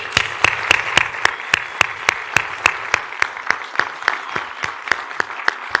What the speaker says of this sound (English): if we can get a round of applause for Mr.